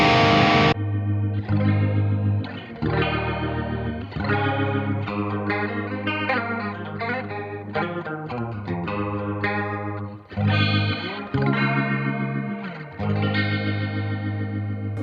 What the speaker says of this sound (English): It's guitar, plugged as directly as a guitar can be plugged into something.